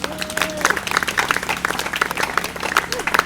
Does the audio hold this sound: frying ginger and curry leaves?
no